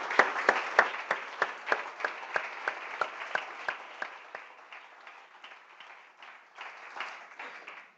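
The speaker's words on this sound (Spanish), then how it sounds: "Démosle un aplauso al Señor" A church congregation claps in praise during a sermon, sharp rhythmic unison claps at a steady beat, moderately distant, gradually loosening into less even clapping near the end.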